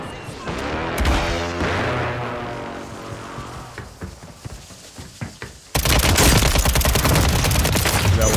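Gunfire in a battle royale video game: rapid close shots and bursts over game noise, then a loud, dense stretch of sustained automatic fire in the last few seconds, with a player's voice in places.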